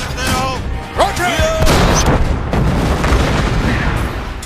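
Anti-tank gun fires in a battle scene with artillery booms and a crackling burst, mixed with whistling shell sounds and ongoing rumble.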